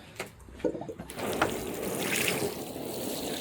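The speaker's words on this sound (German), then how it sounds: "Ich nehme dafür einfach normales Wasser." Plain water rinsing hair dye off leather car seats, a steady spraying and splashing wash that builds and continues unbroken, with no talking.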